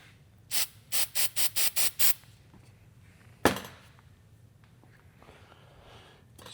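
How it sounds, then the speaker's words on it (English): Aerosol spray hisses onto glue in a rapid series of seven short, even bursts, followed after a pause by one sharper, longer hiss that fades away, with no voices. "I kind of spray it till it looks like it's having an effect on the glue"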